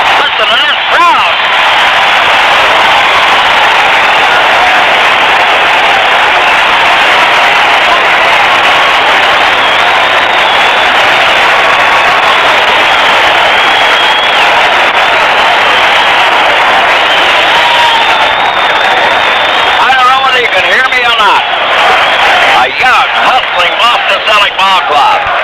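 Arena crowd at a 1979 Boston Celtics versus Houston basketball game roars and applauds in a loud, continuous wash, heard through an old radio broadcast with faint voices breaking through near the end.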